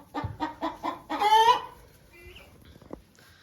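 A hen in a coop clucks four times in a steady rhythm, then rises into a loud, drawn-out squawk, followed by quieter scattered clucks and bits of coop noise, close by and without talking.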